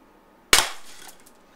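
One sharp crack from a RAM combat pistol, followed by a brief ringing clatter as a glass jar breaks, close by and otherwise quiet.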